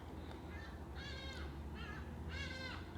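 Crows cawing outdoors in several harsh, repeated calls, with two strong bursts standing out over a steady background hum.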